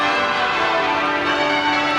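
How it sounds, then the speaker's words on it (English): Westminster Abbey's church bells ring out in a dense, continuous peal, loud and steady throughout with overlapping tones and no pauses. "King Charles arrives to the chorus of Westminster Abbey's bells"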